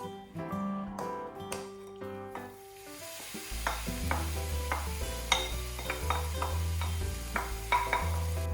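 Kimchi rice stirring and sizzling in a hot pan, with steady frying hiss and repeated scraping strokes of a utensil against the pan, close and clear throughout, no talk.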